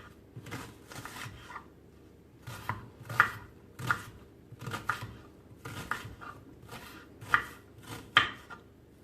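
Onions cut into large pieces with a knife on a board, a steady series of crisp chops in clusters, close and fairly clear, with no talk over them.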